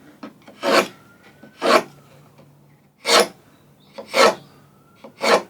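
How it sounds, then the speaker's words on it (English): A knife is drawn back and forth across wood to score a deep reference line, giving five distinct rasping strokes at a steady, unhurried rhythm, close and clear with quiet pauses between them. "I'm going to run the knife back and forth here a number of times because I want this to be a nice deep reference line here."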